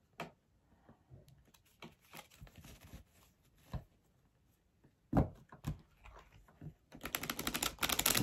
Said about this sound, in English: Let's get these ones a quick shuffle.